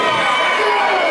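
A wrestling crowd at a TWF Tower of Power show cheering and roaring loudly and continuously, a dense wall of voices with no pauses.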